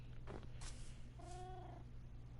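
A cat called Sorrento in Minecraft gives a short, clear meow-like call, heard twice over a steady background hum with no talking.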